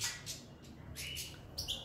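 Goldfinches in an aviary fitted with nests give a few brief, high, thin chirps and calls, fairly faint against a low steady background hum, with no one speaking.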